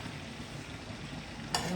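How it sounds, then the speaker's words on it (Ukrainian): Cabbage frying in a pan in a kitchen, a steady soft sizzle with light stirring, ending with a brief louder scrape. "смажет капусточку на порежечке"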